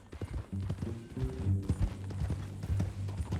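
Horse hooves clip-clopping in the Red Dead Redemption video game, an uneven run of soft thuds at a walking pace, close by and moderately loud, with background tones underneath.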